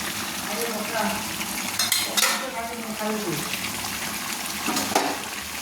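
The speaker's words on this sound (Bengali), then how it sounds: "দিয়ে একটু নেড়ে নিচ্ছি" Mutton masala being stirred into partly boiled potatoes in a pan, a steady loud sizzle with scraping spoon strokes and occasional clinks of the utensil against the pan.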